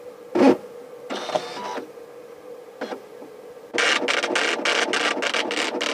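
A Braille printer runs in a room, starting with a few separate mechanical clunks and whirs, then settling into a loud, fast rhythmic embossing chatter of repeated strikes that continues steadily.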